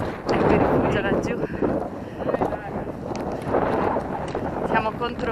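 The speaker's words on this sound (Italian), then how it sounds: "Siamo contro vento." A strong headwind on a steep mountain trail near Rifugio Lambertenghi and Lago Volaia buffets the microphone with loud, continuous rumbling gusts, while a person talks through it.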